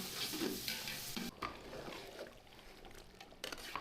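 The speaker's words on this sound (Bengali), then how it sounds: "এটা হচ্ছে ম্যারিনেট করা মাংসগুলো দিয়ে দেওয়া হয়েছে, কষানো হচ্ছে।" Marinated meat for kabsa, an Arabian rice dish, sizzles and fries in a pot as it is stirred, with steady crackling, scraping and a few sharp utensil knocks.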